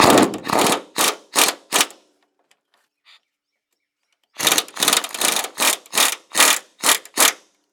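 A ratchet with a swivel and extension works a rear shock bolt on a 2000 Ford Ranger, giving loud close bursts of rapid clicking, then a pause of about two seconds before another run of strokes.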